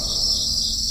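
Crickets chirp at night in a dense, continuous high trill, a steady insect drone at moderate loudness with nothing else over it.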